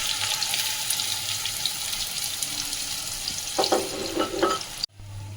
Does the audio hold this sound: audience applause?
no